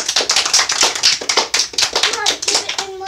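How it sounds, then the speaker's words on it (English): Clapping at an award ceremony for sports winners: quick, close claps in pulsing bursts, with children's voices talking over them and a brief voice near the end. "Give him a round of applause."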